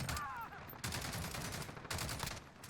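Bursts of automatic light machine gun fire from an SA87 in a first-person shooter game, two dense rattling volleys separated by a brief lull, loud and close with little else over it.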